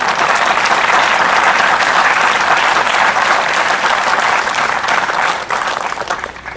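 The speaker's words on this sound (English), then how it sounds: "Please give him a round of applause." Crowd applause at an outdoor Memorial Day service in Fanwood, steady loud clapping from a large audience that fades out near the end.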